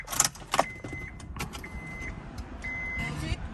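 A set of two car keys for a 2007 Honda S2000 jangles close by in short metallic bursts, followed by repeated electronic chime beeps from the car.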